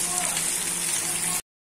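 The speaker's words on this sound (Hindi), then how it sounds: "देख सकते हो आप अच्छा खासा बारिश हो रही है।" Heavy rain falls outdoors in a steady, dense hiss of drops striking surfaces, loud and unbroken before cutting off abruptly.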